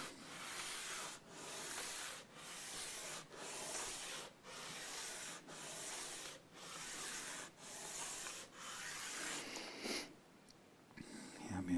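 A Fender Mexican-made Stratocaster guitar nut is rubbed on a sanding board in slow, regular back-and-forth strokes, about nine rasping passes close up, ending in brief handling noise.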